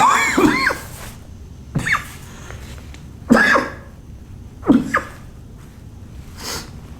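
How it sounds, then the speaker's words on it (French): A person coughs from airborne dust several times in separate bursts, spaced a second or so apart, close by, with quiet breathing between. "Depuis que je suis arrivé, je les respire. Ça me fait tousser."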